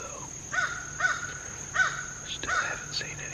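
Four distinct crow caws ring out at a moderate distance, spaced about half a second apart, over faint background noise.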